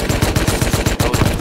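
Rapid automatic gunfire from a Thompson in a large 30 vs 30 battle in the survival game Rust, a steady burst of about a dozen close, loud shots in quick even rhythm with no talk.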